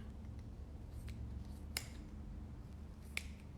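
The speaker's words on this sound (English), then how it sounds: "I'm gonna snip that off." Scissors snip through yarn while trimming a pom pom, giving a few faint, sharp clicks spaced apart over a quiet background hum.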